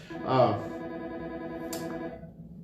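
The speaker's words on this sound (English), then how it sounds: "I got to answer that phone" A church office telephone ringing, a repeating electronic ring heard under and between a man's speech indoors, moderately loud and close.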